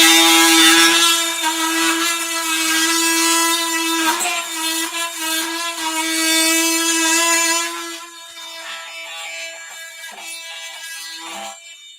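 An oscillating multi-tool cuts through a piece of wood with screws embedded in it, giving a loud, steady buzzing drone that runs continuously, then drops to a lighter, quieter whine near the end.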